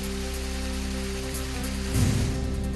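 Heavy unseasonal downpour over the Nira river bridge, a steady dense hiss of rain on surfaces with a constant low hum underneath and a brief louder swell near the end, no voices.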